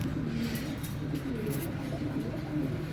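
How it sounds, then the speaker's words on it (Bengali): Teddy-breed pigeons, including Sakhi and Omani teddies, coo softly nearby in a low repeating throaty murmur that runs under faint background noise. "এখানে আমি সবগুলো কবুতরই রাখছি দেখতে পারতেছেন"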